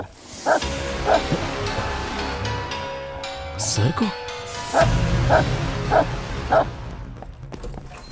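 A dog tied up indoors barks in a run of loud, repeated bursts, several yips and bow-wows spaced about half a second to a second apart, alternating with people talking nearby.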